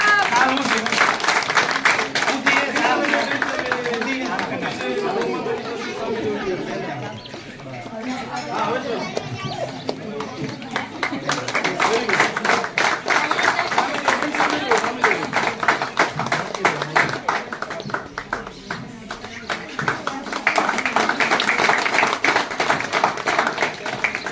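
An audience claps continuously, a dense crackle of many hands that swells and eases, mixed with crowd chatter and voices throughout.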